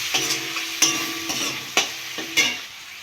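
Chopped tomato with cumin and coriander powder frying in a pan for a Bengali rice dish, a soft steady sizzle broken by four distinct scraping stirs of the spoon.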